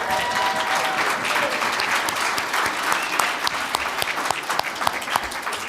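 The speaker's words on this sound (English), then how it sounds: "let's simply give all the awardees, Michigan Companies to Watch, and all other Michigan Celebrate awardees a big round of applause" Guests at a VIP reception applaud the awardees with sustained, loud clapping, crisp individual claps popping out near the end.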